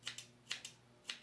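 Small scissors snip fly-tying material in crisp, close, quiet cuts, coming in three quick pairs of snips with short pauses between them.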